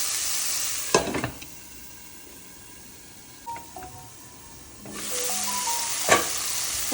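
Food frying in a steel pot, with a loud close sizzle that drops away to near quiet with faint clinks in the middle, then surges back with a stirring scrape.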